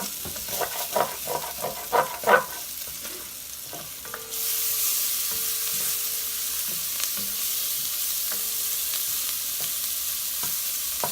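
Shallots browning in a pan with kielbasa drippings get scraped and stirred in several sharp, loud strokes, then settle into a steady hissing sizzle that carries on alone.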